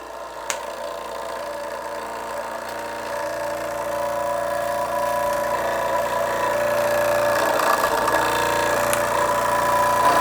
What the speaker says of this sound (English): A Tubo Products model steam engine from around about 1947.